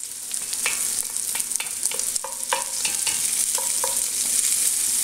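Sausage browning and rendering fat in a pot for squirrel jambalaya: a steady sizzle with repeated spoon stirs and scrapes scattered throughout, close and fairly quiet, no talking.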